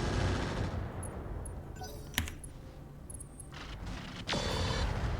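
Weapons firing in the video game Roguetech, a BattleTech mod: dense, rumbling barrages with one sharp crack in the middle, heavy and continuous under a low, noisy mix.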